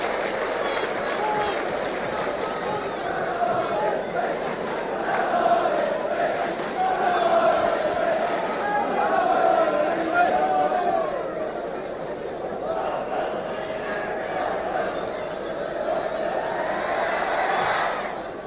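A large football crowd at an Ipswich Town versus Spurs match roars and chatters steadily throughout, a dense, loud wash of voices swelling slightly in the middle with no single voice standing out.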